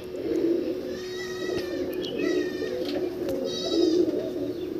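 A white Matras pigeon coos in low repeated throaty calls close by, three swelling bouts over a steady background hum, with thin bird chirps higher up.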